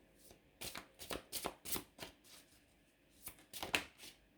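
Tarot cards riffled and dealt in a series of crisp, papery bursts with short pauses between them, close by and moderately quiet, with no voices.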